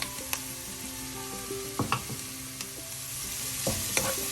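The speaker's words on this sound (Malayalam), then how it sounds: "ഉള്ളിയെല്ലാം ചെറുതായി ഒന്ന് വഴലുമ്പോൾ അതിലേക്ക് നമുക്ക് വൃത്തിയാക്കി വെച്ചിരിക്കുന്ന കോളിഫ്ലവർ ചേർക്കാം." Cauliflower tossed into onions sautéing in a pan sizzles softly and steadily, broken by a few sharp scrapes and clinks of a stirring spoon against the pan.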